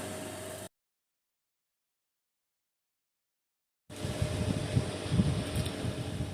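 A propane heater with its electric fan set on high blows a steady, broadband whoosh and low rumble in a garage, heard briefly, cut to silence for about three seconds, then returning slightly louder.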